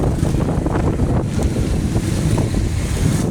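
Gusting typhoon wind during Typhoon Kristine in Surigao City, Philippines, roars loud and steady into the microphone, with buffeting rumble and rushing, surf-like noise that surges and eases in pulses.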